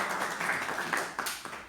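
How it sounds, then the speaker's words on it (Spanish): Brief applause from a church congregation during a Spanish-language service, a spread of hand claps with a few sharper individual claps standing out over about two seconds. "Un aplauso para la pastora."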